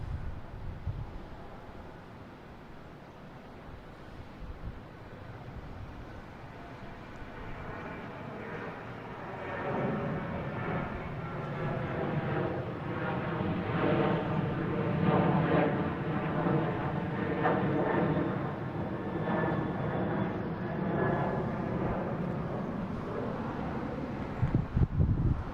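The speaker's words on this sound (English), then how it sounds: "there's American heading to Chicago, a 737-800 flight 1592" An American Airlines Boeing 737-800 departing Boston Logan builds from a faint distant rumble into a moderate jet roar with wavering engine tones, softened by wind noise on the microphone.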